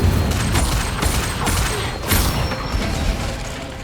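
Accio and Incendio spells cast in the video game Hogwarts Legacy, a dense run of whooshing bursts, booms and crackling impacts, loud and continuous with repeated surges.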